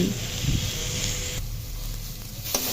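Turmeric and chili powder sizzle in hot oil in a pan over a medium flame while being stirred, giving a steady close frying hiss with a few soft scrapes.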